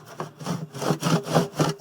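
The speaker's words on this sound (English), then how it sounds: "I've already started sawing here." A hand saw cuts through the metal drum of an Indesit washing machine during a bearing replacement, with about eight quick, short, rhythmic strokes rasping up close and loud.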